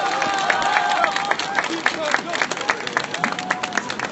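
A crowd at a Wednesday rally on the comfort women issue gives scattered applause for an arriving party leader. The clapping and murmuring chatter sit close by with voices and other sounds mixed in.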